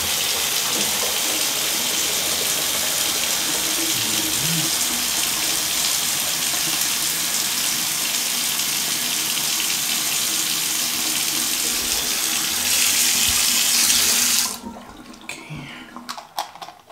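Water from a tap runs steadily with a loud, close hiss, grows briefly stronger, then is shut off near the end, leaving faint background sounds.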